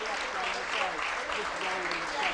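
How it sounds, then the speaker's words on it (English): Crowd applause spreading around a football ground at a Kidderminster Harriers versus Needham Market match, a steady distant patter that carries on throughout. "round of applause, as you can probably hear, goes around the ground"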